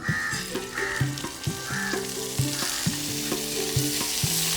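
Soaked dried fish fries in hot coconut oil in a pan, giving a continuous close sizzle and crackle with occasional stirring scrapes. No talking is heard.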